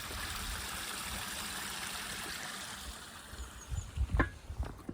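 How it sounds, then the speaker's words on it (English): A small stream trickles along through a residential estate, a steady watery wash with a few louder splashes and knocks near the end. "Stream that runs through the estate here."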